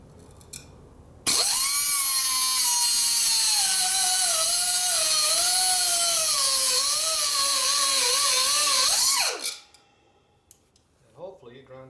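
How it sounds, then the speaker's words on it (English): A power grinder bites into a 1972 Harley Sportster ironhead engine case, a loud continuous high-pitched whine of about eight seconds that wavers slightly in pitch, then cuts off and winds down, with brief quiet handling noises around it. "And hopefully you grind the right amount"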